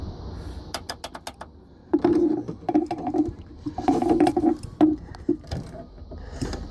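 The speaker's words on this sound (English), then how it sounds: "So right now it's clicking." A Sea-Doo personal watercraft that fails to start gives a series of sharp, rapid clicks, first in a quick burst and then in louder irregular bursts, close up and with no talking.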